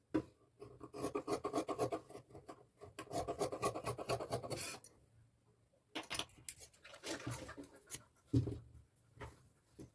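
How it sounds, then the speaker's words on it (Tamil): Scissors snip through a strip of blouse fabric in quick rhythmic bursts of crisp, close cutting, with a brief pause midway and no voices. "ஹூக் பட்டி ஐப்பட்டி கட் பண்ணிடுறேன்."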